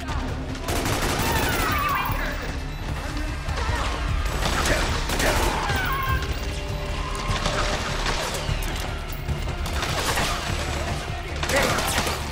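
Rapid, dense gunfire fills Metal Gear Solid 4 gameplay, with overlapping bursts and heavy impacts hammering on without a break at close, loud range. A voice surfaces faintly at moments.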